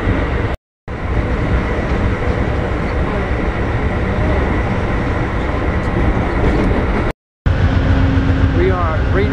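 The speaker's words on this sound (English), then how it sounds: "And the trains are underground, in a sense, below ground level, I should say, for a couple of miles here." A train rumbles loudly through the below-ground rail trench in Reno, Nevada, with a continuous heavy roar and rattling wheels close by, broken by two brief dropouts.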